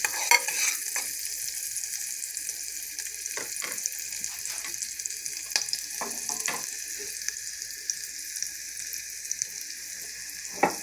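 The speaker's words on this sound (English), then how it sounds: "So I'm just going to cook these onions down just a little bit." Onions cook down in a pan on a stove top, a steady soft sizzle with intermittent spatula taps and scrapes, fairly quiet and close, no voices.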